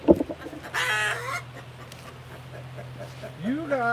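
Backyard hens in Arkansas squawk and cluck close by in short bursts and rising calls, with a low steady hum underneath.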